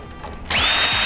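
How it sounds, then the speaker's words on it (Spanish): Power screwdriver kicks in halfway through as screws are taken out of a PlayStation 4 console, a loud close whine that holds steady after a short quiet lead-in. "Vamos a remover nuestros cuatro tornillos de la parte de acá."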